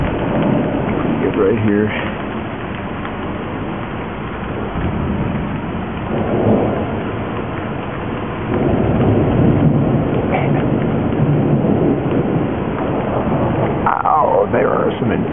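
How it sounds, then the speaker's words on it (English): Night thunderstorm with steady loud rain pouring down, broken by several deep rolling rumbles of thunder. Someone speaks briefly over the downpour. "Some intense lightning bolts out tonight."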